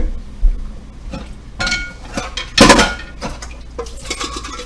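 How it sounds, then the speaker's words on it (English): A pan rinsed out at a kitchen sink, with clanking and scraping of metal cookware and utensils over running water, closer knocks rising and falling across the clip. "Rinsing pan out right now."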